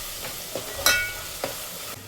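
Ginger garlic paste is tempered in hot oil, producing a brief hiss and sizzle with a few stirring taps and one sharp spattering burst over about two seconds.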